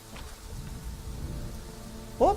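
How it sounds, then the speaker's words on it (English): Rain falling in the video game Prehistoric Kingdom, a steady low hiss and patter that stays even throughout, with a brief louder sound breaking in at the very end. "It's raining on us again."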